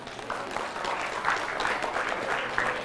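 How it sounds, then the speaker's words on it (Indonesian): Steady applause from a large audience at a religious lecture in Indonesia, a dense continuous patter of clapping that holds at an even level throughout with no voices on top. "Dari bunyi tepuk tangannya, tepuk tangan orang kepanasan."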